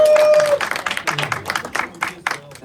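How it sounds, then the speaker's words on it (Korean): High school students at a youth worship service clap in celebration of a graduation, a scattered burst of hand claps in quick, uneven pulses after a brief tone, fairly close and lively. "자, 박수로 해."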